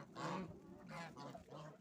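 Young geese in a village farmyard giving several nasal honks in quick succession, faint and somewhat distant.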